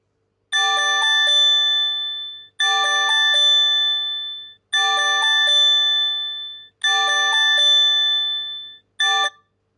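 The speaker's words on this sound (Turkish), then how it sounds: "bildirim geldiğinde, nasıl bir ses tonu ve görüntüsü olduğuna bakalım." Phone earthquake early warning notification tone: a bright electronic chime pattern of rapid stacked notes repeating four times with short gaps, then a brief fifth start, loud and alone with no voices.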